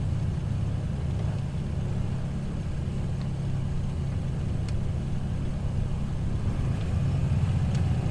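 Black Square Analog Baron 58P twin piston engine in Microsoft Flight Simulator running steadily at idle just after starting, a low droning rumble heard alone at moderate volume.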